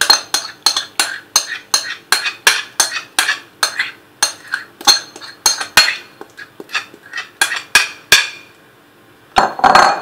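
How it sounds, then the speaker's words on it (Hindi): Cream is mixed into blueberry cheesecake filling in a bowl, with a utensil clinking sharply against the bowl in a quick, steady rhythm of about two strokes per second, close and distinct, pausing briefly near the end. "अब इसको और क्रीम को मिक्स करते हैं।"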